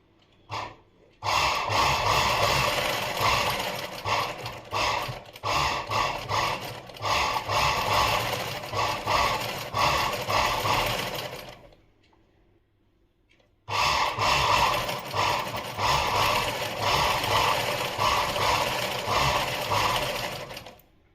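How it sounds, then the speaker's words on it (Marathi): A sewing machine runs a straight stitch to attach a fall along the edge of a saree, with a steady fast mechanical whirr that continues, pauses briefly, then resumes at close range. "चला आता तुम्हाला शिलाई मारून दाखवते आणि सरळ शिलाई घ्यायची आहे आपल्याला"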